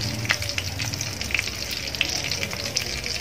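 Oil crackling and sizzling steadily over hot charcoal for restaurant-style tandoori chicken on a gas stove, a dense close hiss with small pops throughout.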